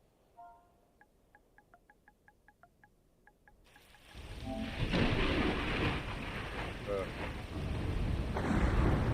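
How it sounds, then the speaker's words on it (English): A loud thunderstorm with heavy rain in the survival video game Ark Survival Ascended, coming in abruptly after a few seconds of faint regular ticking and then roaring steadily through to the end. "You don't have to hear that loud storm."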